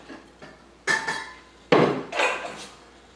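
A vintage 1967 cookware pan is picked up and handled, giving a few loud metallic clanks and knocks with a brief ringing scrape between them, close by with no talking.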